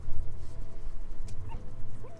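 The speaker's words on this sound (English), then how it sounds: "Here's the dog you brought back." A puppy in Metal Gear Solid V gives small yips and soft whimpers, close and fairly clear, scattered over a low background hum.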